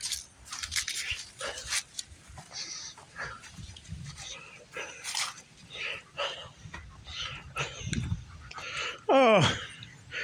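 A German Shepherd puppy whimpers and whines in short broken bursts close by outdoors near a house, with a sharper yelp-like cry near the end and people talking softly around it.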